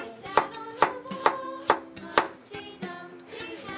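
A kitchen knife chopping food on a cutting board while cooking steamed stir-fried shrimp and broccoli at home, with about eight steady, close, crisp chops in an even rhythm.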